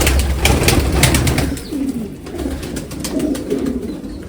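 A golden pigeon sitting on eggs coos softly and repeatedly at close range over a backdrop of rustling and light clicks.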